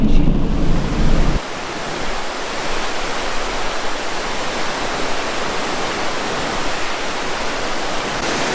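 Thunder Creek Falls, a 28-metre waterfall in New Zealand, gives a steady, dense roar of falling water that carries on unbroken and fairly loud from close by, with no voices over it.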